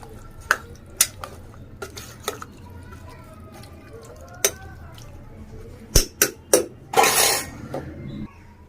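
A spoon scrapes and clinks against a metal pot of bottle gourd and chana dal curry in sharp irregular strokes, then a brief burst of sizzling or stirring noise near the end.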